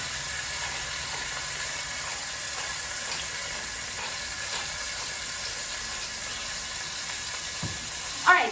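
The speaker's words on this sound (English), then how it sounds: "So I've got my chicken seared on the outside." Chicken searing skin side down in a hot pan, giving a steady, soft sizzle and hiss throughout at moderate distance, with a small clatter right at the end.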